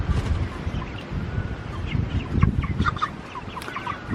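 Chickens of mixed sizes in a poultry pen, clucking and chattering in overlapping bursts close by, with scattered higher cheeps over a busy, steady flock murmur.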